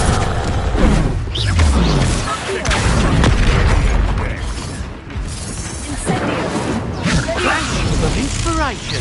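Incendio fire spell cast in the Hogwarts Legacy video game, dense whooshing bursts and booming impacts amid chaotic combat effects, with voices speaking over the action.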